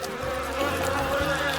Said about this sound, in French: Oh non, il y a tellement d'abeilles.